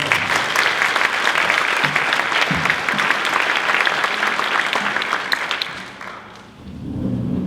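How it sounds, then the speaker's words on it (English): Sustained applause from a town hall audience in Eugene, Oregon, greeting the mayor, dense and loud for several seconds before thinning out, with a brief dip and a low murmur of voices near the end. "give the mayor a round of applause"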